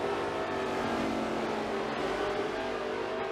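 Race cars roaring through the pit lane in a NASCAR-style racing video game, a steady dense engine drone with passing whooshes, loud and continuous with no voices.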